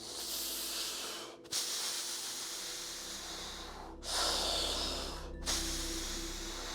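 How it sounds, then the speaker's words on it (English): Breath pushed out through pursed lips during breathing exercise, a close, steady airy hiss running through the clip, broken by three short gaps where fresh breaths begin, with no talking. "On the exhales, when we're pursing our lips."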